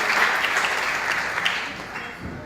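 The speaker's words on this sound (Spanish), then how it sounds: "Un aplauso de bienvenida para Alan, por favor." A conference audience applauds in welcome for a speaker, a dense, even burst of clapping that stays loud and close, tapering slightly toward the end.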